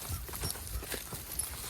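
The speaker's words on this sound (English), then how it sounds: "3 horses are walking about even." Three draft horses walking about even in harness, hooves clip-clopping in a steady, overlapping rhythm at close range over a low, continuous background rumble.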